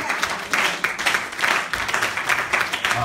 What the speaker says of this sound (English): Let's give them a hand clap of praise.